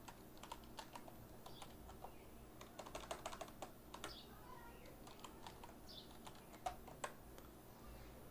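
Computer keyboard keys tapped steadily while code is typed for a Python course, a dense run of quick, fairly soft clicks with short pauses, heard alone without talk.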